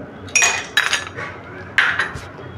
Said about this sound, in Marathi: तर मी 2-2 बर्फाचे खडे टाकते इकडे.